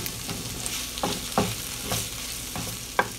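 Matbucha, a cooked tomato and pepper salad, sizzles in a pan that is shaken, a continuous hiss broken by several distinct sloshing thumps as the pan moves; no talking.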